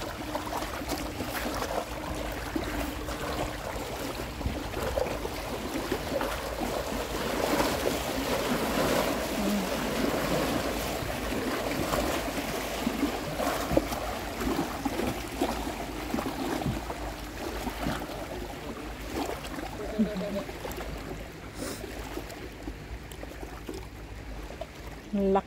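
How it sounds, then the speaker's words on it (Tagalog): Strong waves wash and crash continuously at a moderate distance, a broad rushing noise that swells and recedes without pause. "Lakas ng alon."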